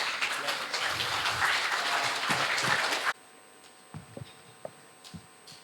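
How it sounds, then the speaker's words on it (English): An audience applauds a speaker being welcomed at a conference session, with dense clapping for about three seconds before it stops abruptly. A few scattered light taps and knocks follow in the quieter room. "Let's give a very big applause to Mr."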